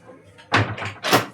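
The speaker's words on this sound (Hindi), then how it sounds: "जाके दरवाजा खोलो जाके।" A household door is opened, producing two firm knocking thumps about half a second apart, close by and fairly loud, with a quiet room around them.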